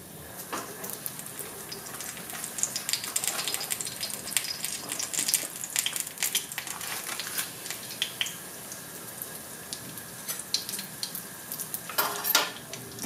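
Beignet dough fries in hot oil with a continuous close crackling sizzle, punctuated by occasional louder pops and spatters.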